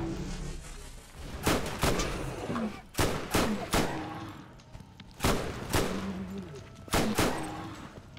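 Gunfire from a gun in the video game Borderlands, heard as several clusters of sharp, loud shots in quick bursts with short pauses between them, over a low game background.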